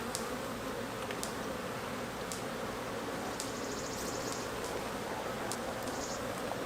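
Honeybees hum in a dense, steady buzz from an open beehive, a close and constant drone with a few individual bees zipping past now and then.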